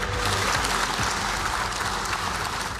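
Sustained applause from a large crowd in a National Assembly chamber, steady and fairly distant, continuing throughout without pause.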